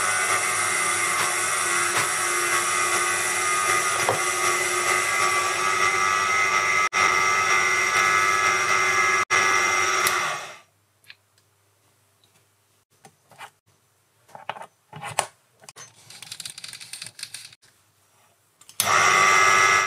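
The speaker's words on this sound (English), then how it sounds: "I set the lathe to a more normal speed for carbide inserts to the finishing pass" A Proxxon PD 250/e benchtop lathe running at normal speed for a finishing pass with a carbide insert, a loud steady motor whine with faint ticks, stopping abruptly midway, followed by quiet, scattered handling clicks and a brief restart at the end.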